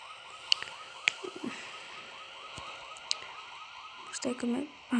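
A police siren in the video game GTA 3 wails, sweeping up and down steadily in the background, with a few sharp clicks and a brief thud near the end.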